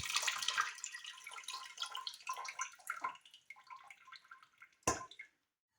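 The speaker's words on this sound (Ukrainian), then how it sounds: "Потім знову зливаю воду та ставлю на вогонь" Water is poured off tomatoes in a jar while making sweet pickled tomatoes, with close, trickling splashes and drips that thin out over several seconds, ending in one last splash before silence.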